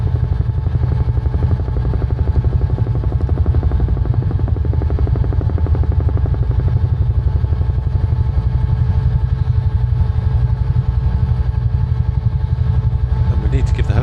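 Steady, loud rotor and turbine drone of a UH-1H Huey helicopter in Microsoft Flight Simulator, set over the tropical Philippines, holding constant throughout with a faint voice talking underneath.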